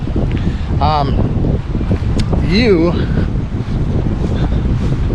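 Steady wind rumbles across the microphone outdoors in Neenah, Wisconsin, while a voice briefly makes a wavering, whooping sound over it.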